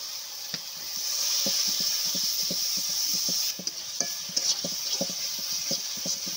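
Ground spice paste fries in a pan for a fish curry, a steady close hiss with soft rhythmic stirring scrapes that turn sparser and more tapping toward the end.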